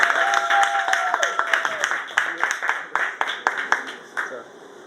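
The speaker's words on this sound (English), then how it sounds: "Let's give a round of applause for Miss Lucia." Scattered, rhythmic clapping from a small open mic crowd at Wildflower Cafe welcomes Miss Lucia, individual claps standing out clearly after a brief voice at the start.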